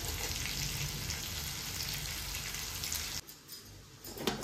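Water at a rolling boil in a pot for prawn biryani rice: a soft, steady bubbling hiss close by, which cuts off near the end and leaves faint clatter.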